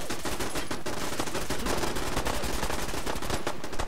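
Dense automatic gunfire fills a battle during an attack on Sanctuary in Fallout 4, with loud rapid bursts and overlapping shots with no letup.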